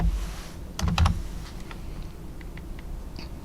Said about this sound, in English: type in the first two digits of the state, scroll down to the appropriate one, and hit enter